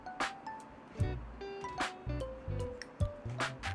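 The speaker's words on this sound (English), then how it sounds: "ドリッパーをゆするって言います。" A coffee dripper being swirled in a kitchen setting, giving a series of light clinks and soft sloshing knocks spaced irregularly, close and fairly quiet, with no voices.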